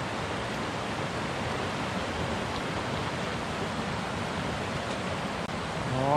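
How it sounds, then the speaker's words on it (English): Mountain river at a hiking crossing in the Wind River Range rushes as a constant, full-bodied roar of flowing water, close by and steady, with a faint splash near the end. "our first river crossing for the day."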